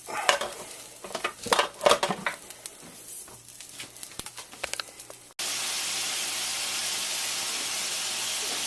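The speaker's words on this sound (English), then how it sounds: "I'm going to get this meat all cooked up first" Ground meat for chili frying in a pan, sizzling with stirring scrapes and clatter of the utensil against the pan, close and moderately loud, then giving way to a steady loud hiss of steam.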